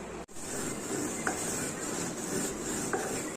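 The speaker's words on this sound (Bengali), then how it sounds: "প্রথমে রাঁধুনিটা আমি শুকনো কড়াইয়ে ভেজে নেব।" Radhuni seeds being dry-roasted and stirred in a dry wok give a steady scraping rustle throughout, with a couple of light metallic clinks, close by and alone.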